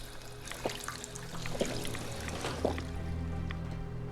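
Faint water trickling in the Fallout 4 video game, with a soft continuous dribble, occasional drips and small splashes in a quiet setting.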